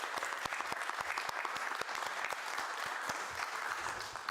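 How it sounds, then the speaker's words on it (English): Steady applause from an audience at a general meeting, marking the end of a season: dense, even clapping that holds at the same level all the way through with no voices rising above it. "I think a round of applause for what has been a wonderful season is appropriate"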